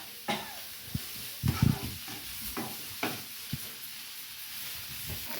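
Potatoes are stirred with onions and turmeric in a frying pan, with soft scraping strokes and a few knocks of the spoon over a gentle, steady sizzle.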